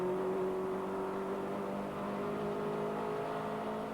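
Onboard a 1992 Caterham Vauxhall Challenge race car heading into Copse corner at Silverstone, a steady, loud engine drone holds throughout with a constant harmonic whine and slight shifts in pitch, with no talk.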